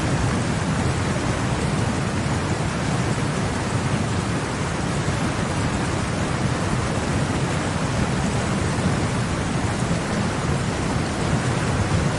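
Heavy rain pours steadily and densely in a storm during flooding in Castellón, Spain. Deep thunder rumbles beneath the constant roar throughout, with no voices.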